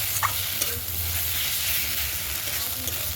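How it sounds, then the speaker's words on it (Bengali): A fish head is sautéed in a hot pan, giving a loud, continuous sizzle and crackle. Faint scrapes from a spatula come through now and then, and no one speaks. "মাছের মাথাটা দিয়ে খানিকক্ষণ কষিয়ে নেব।"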